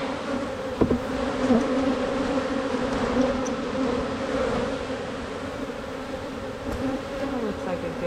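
Honey bees buzz steadily around an open hive during a weekly inspection, a dense continuous drone close by with a few faint knocks, no talk.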